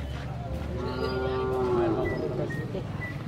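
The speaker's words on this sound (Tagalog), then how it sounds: "So nakita natin may kalabaw po dito." A carabao (water buffalo) lows once in a long, drawn-out moo, fairly loud and close, over an outdoor background hum with faint other sounds.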